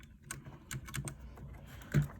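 A Ducky One 2 Mini keyboard with Cherry MX Silver switches being typed on, a quiet run of light clicky keystrokes in uneven rhythm, with one louder key press near the end.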